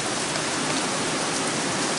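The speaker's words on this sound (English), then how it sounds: "I think it's the rain hit the roof." Heavy downpour drums steadily on a roof, a dense, loud, unbroken hiss of rain with no pauses.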